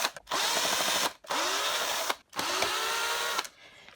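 A power drill backs screws out of a pedestal fan in three loud, close bursts of whirring, each lasting about a second with short pauses between.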